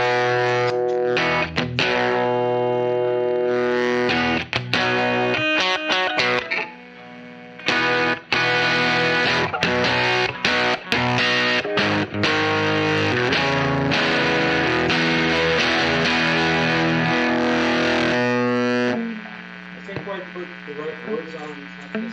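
An electric guitar plays through a JHS Pack Rat distortion pedal, giving gritty, saturated chords and riffs with a few brief pauses. Near the end it drops to a quieter, cleaner passage with hum underneath. The sound is close and mostly continuous.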